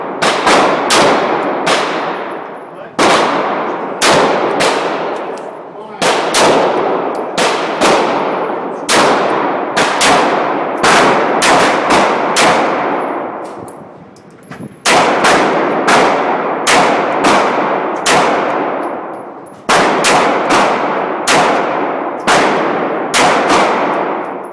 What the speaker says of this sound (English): We did fire this pistol at the range the other day, so I have a couple videos of us shooting it